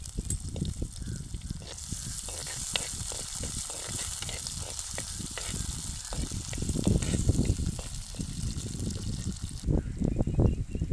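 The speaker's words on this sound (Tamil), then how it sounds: "வெங்காயத்தை போட்டுக்கிடலாம் பச்சை மிளகா ரெண்டு போட்டு போடலாம்" Onions and green chillies frying in a pan with cumin, a close, continuous crackling sizzle with frequent stirring clatters, intensifying in the second half, no speech.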